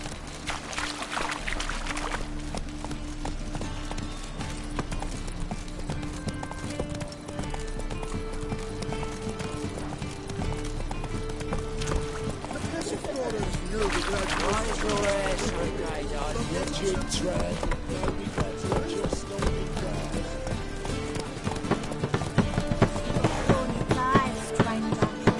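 Hooves of the horse Roach in The Witcher 3, a rhythmic clip-clop of galloping running steadily throughout at moderate level, with game music and a voice speaking over it.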